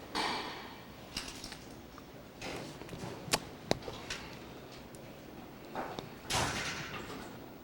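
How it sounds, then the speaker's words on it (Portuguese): A studio door swings shut during a break in recording, sounding as sharp thuds and clicks against a busy room background, with one loud knock and a couple of fainter bumps. "Só fecha a porta aqui."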